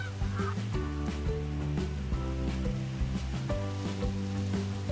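Geese from a fairy tale honk as they fly, their calls carried over a steady, layered tonal background that shifts in pitch every second or so, with no voices.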